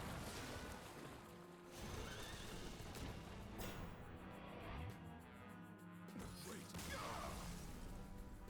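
A horse whinnies as a sound effect in the card game Hearthstone, set against continuous game music with a crashing impact and other effects layered through the mix.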